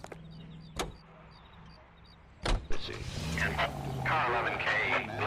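A car in the video game LA Noire, with a door thunk and clicks, then the engine starting and running at a low hum under game sounds and talking.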